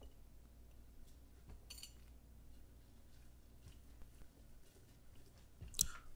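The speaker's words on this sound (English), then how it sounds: "Now we're going to start to stir the culture." Flour is stirred and folded into a fresh yeast culture in a jar, giving soft, faint squishing and sticky working sounds with a few light clinks of the utensil against the glass, quiet and close.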